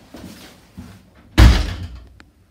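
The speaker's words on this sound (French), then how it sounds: "Et fermez bien la porte." A door is shut with one loud, close slam and a short resonant thud after a couple of faint softer knocks and shuffles in an indoor room.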